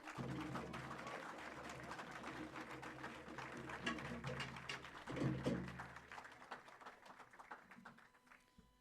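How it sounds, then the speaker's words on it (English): A graduation ceremony audience gives a round of applause, a faint, distant patter of clapping in a large hall that swells briefly then fades, with a voice heard near the end. "Yep, round of applause, everybody."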